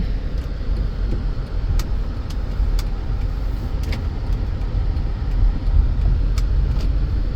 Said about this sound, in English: So now we're going to go take it for a drive and see what we've got.